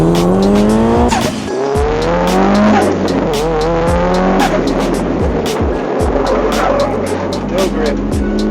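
A Mitsubishi Evo 9 attacks an autocross course at Pikes Peak International Raceway, its engine revving hard up and down through gear changes with repeated tire squeals and skids, loud and close throughout.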